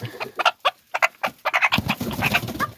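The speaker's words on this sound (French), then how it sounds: "des petites poules, du coup, je vous disais, hollandaises, noires et blanches" Black-and-white Dutch bantam hens clucking close by in a quick series of short, bright calls, fairly loud and continuous.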